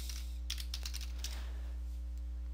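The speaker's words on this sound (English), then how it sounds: "Now you want to type in programs" Fingers tap out a short burst of keystrokes on a computer keyboard, a quick cluster of light clicks, then quiet keyboard stillness over a low steady room hum.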